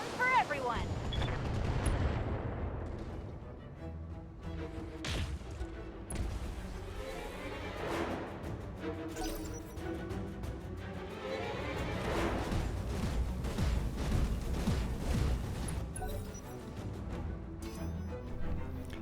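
Rapid turret gunfire and heavy booming impacts from a BattleTech mech battle roll on continuously, loud and dense, layered with explosions and rumbling throughout.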